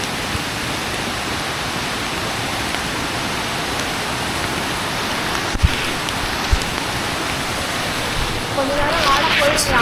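The Dhoni waterfall in a forest, with rain falling, roars as a steady, loud, broadband rush of water that never lets up, and a few faint knocks sit in it near the end.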